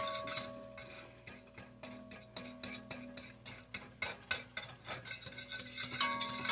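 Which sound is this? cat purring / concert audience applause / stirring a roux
stirring a roux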